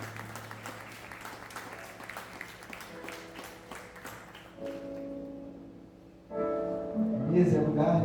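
A church congregation claps in a loose, rhythmic patter under a speaker's voice, then the applause gives way to louder sung or spoken tones with music rising near the end.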